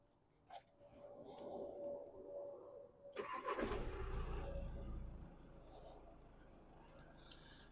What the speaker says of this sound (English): First I'm going to start the car.